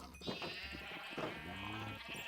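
Sheep bleat in the Minecraft game, a few wavering, nasal cries close together over a short stretch, fairly quiet with no speech.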